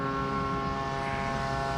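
An F4F-3 Wildcat model airplane flying its landing pattern at a model airfield, a steady droning engine hum with a constant tone, moderately loud and unbroken, with no talk.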